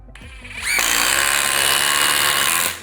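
A power driver on speed 3 spins a 1/4-inch by 6-inch lag fastener in one continuous loud, high whine lasting about two seconds, starting after a short ramp-up and cutting off cleanly.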